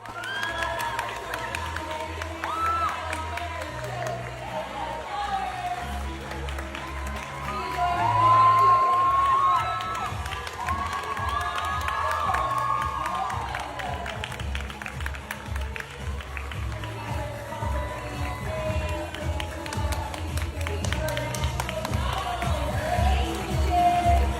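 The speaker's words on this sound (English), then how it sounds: "people around her, they were clapping and applauding and being polite" Pageant audience clapping and cheering as the winner is announced, a steady mass of applause with crowd noise and scattered shouts running throughout, fairly loud and continuous.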